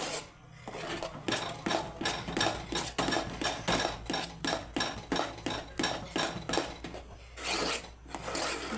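A ladle stirring thick ragi mudde (finger millet) dough in a pot: rhythmic, close scraping and rubbing strokes against the metal, roughly two per second, steady and moderately loud with no talking.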